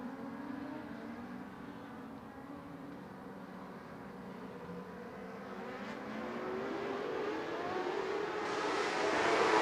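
Modified Lite race cars roar around a dirt track at a winter racing event, a continuous engine drone that builds louder toward the end as the pack approaches, with no talking.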